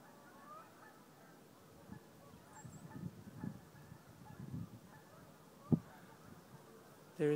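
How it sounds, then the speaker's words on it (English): Faint, distant goose honks from a field behind trees in the morning, a few scattered calls over quiet outdoor ambience and soft rustling. "I don't know if you can hear the geese"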